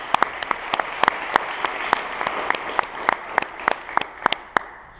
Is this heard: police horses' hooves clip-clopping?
no